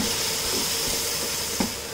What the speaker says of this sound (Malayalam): ഈ തൈര് ഒഴിച്ച് ഇളക്കി കൊടുക്കാം.